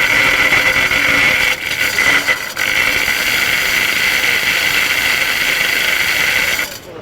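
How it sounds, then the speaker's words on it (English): A SpeedCut descaling machine whips its chains against lumber inside a 4-inch cast iron pipe at a trade show booth: a loud, close, continuous mechanical grinding whir with a couple of brief dips before it cuts off. "what I'm doing is buzzsawing chunks out of this lumber"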